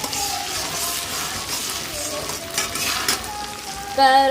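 Ginger paste frying in a pan, a steady close sizzle and crackle running throughout, with a brief clink of utensils near the end.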